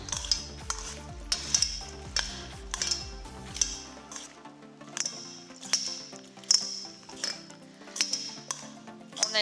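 A salad being tossed in a bowl, with a steady series of bright clinks and taps of utensils against the bowl, close and fairly quiet, with a low rumbling undertone fading out early on.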